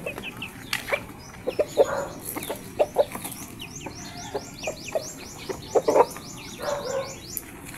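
Chickens and chicks cluck and peep in short scattered bursts, some close and loud, others softer, with high chirps layered over steady farmyard background noise.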